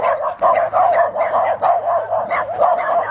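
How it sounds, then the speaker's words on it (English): Several tiny dogs on a Florida trail yap and bark in quick, overlapping bursts, close and loud, with a steady low hum running beneath the barking for the full stretch. "You harmless pups. You got more bark than bite."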